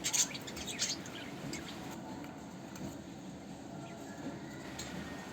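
Diamond doves kept as pet birds give a few short, close chirps at the start, then a quiet, low background murmur remains for the rest of the clip.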